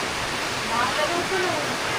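Heavy typhoon rain pours down continuously, a dense, even roar of water with no breaks, loud and close.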